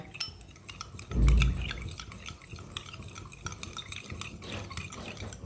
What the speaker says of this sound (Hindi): इसे अच्छी तरह मिक्स कर लेंगे